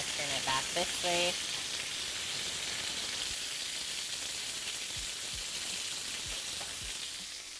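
Steak sizzles steadily in a hot pan, a close, continuous frying hiss with faint pops, as a voice briefly talks over the start.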